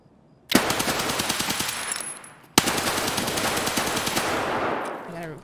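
Automatic gunfire in the video game Escape From Tarkov, two loud sustained bursts of rapid shots, the second after a brief break, close and dominant.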